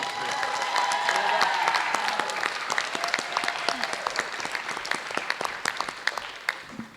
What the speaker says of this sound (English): the loudest applause for anybody this evening ought to be mom and